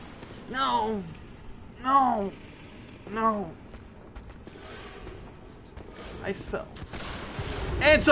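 Gunfire in the video game Bloodborne: three separate booming shots about a second apart, each with a ringing tail, followed by clanking mechanical noises and rising action sounds.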